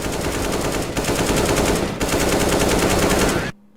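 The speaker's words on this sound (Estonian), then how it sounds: "Kohe te näete, kuidas AK-47 laseb neile nokusse." AK-47 rifle fire in Counter-Strike: Global Offensive rattles in loud, dense sustained bursts with two brief breaks, then cuts off abruptly into near silence.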